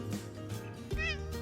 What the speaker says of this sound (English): this is my kitty, Suki